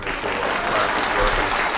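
Applause sound effect played during a livestream sound check, a steady dense wash of clapping filling the short stretch at even loudness with no voices.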